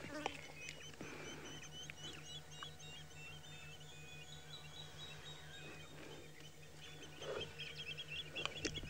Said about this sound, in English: There are birds singing around the dam.